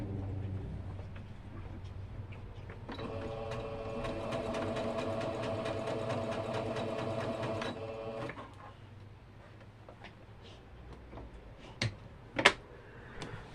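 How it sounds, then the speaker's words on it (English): A sewing machine stitches down a plate mat, a steady mechanical whir running for about five seconds in the middle, with quieter handling noises and a few clicks before and after. "now I'm going to sew it down"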